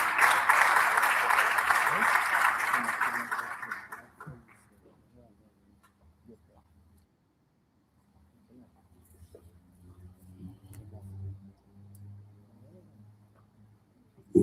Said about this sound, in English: Can you give a good round of applause to Dr. Matutu